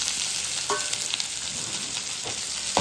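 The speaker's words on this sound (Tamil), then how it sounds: "இப்ப வந்து வெங்காயம் வரமிளகா எடுத்து போட்டுக்கோ. வெங்காயம் வரமிளகா கருவேப்பிலை இப்ப 3 இதெல்லாம் வதக்கிக்குவோம்" Onion, dried red chili and curry leaves sautéing in hot oil, a bright continuous sizzle close by with a few brief stirring scrapes and pops.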